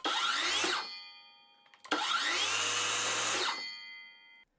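A 5.5-inch cordless circular saw, Osuka OCS827-M1, whirs up to a steady high whine, stops abruptly under its electric brake, then runs again for a longer burst before winding down quickly.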